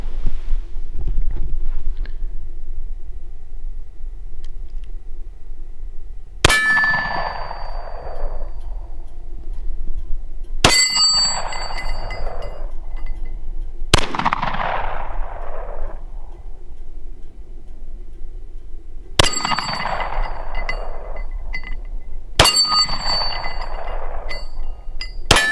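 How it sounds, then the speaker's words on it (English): Five loud gunshots fired at targets outdoors, spaced several seconds apart, each a sharp crack with a trailing echo, over steady wind noise. "rack it and shoot when you're ready"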